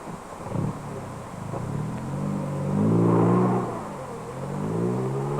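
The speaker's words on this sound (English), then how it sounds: "The force of the motor is moving the car now." A car driven forward by its motor, a moderate engine hum rising and swelling as it gathers speed, with some wind noise and no talking.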